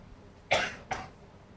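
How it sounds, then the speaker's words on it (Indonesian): Two dry coughs from someone speaking at a Ramadan iftar religious gathering, a sharp loud one followed by a shorter softer one, close and alone without talk. "jadi batuknya batuk Mekah gitu ya"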